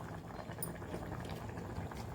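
A pot of fish curry with fish pieces simmers at a steady boil, giving close, continuous bubbling and gurgling with no talk over it.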